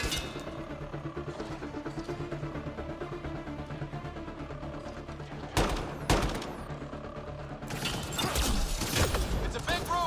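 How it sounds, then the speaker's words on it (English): Gunfight gunfire in a gun battery from the video game Mass Effect: Andromeda, with a steady din of mechanisms and game sound, then loud sharp bursts of shots near six seconds and a dense barrage in the final two seconds. "It's a gunfight in the gun battery then."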